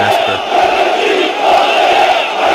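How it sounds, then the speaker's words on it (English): A huge crowd chanting for Turkish troops to go to Gaza, a dense, steady roar of many voices carrying through the whole clip without pause. "So they're chanting troops to Gaza, Turkish troops to Gaza."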